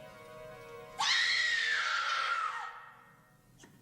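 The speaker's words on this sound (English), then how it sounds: "hearing the sound of women screaming is pretty scary" A woman's sustained, piercing scream in the Doctor Who episode The Five Doctors rings out loud and alone for about two seconds, then fades away.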